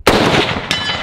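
A single loud AR-15 rifle shot fired freehand, sharp blast followed by a ringing ring-down and a second fainter crack near the end, close and alone with no talk.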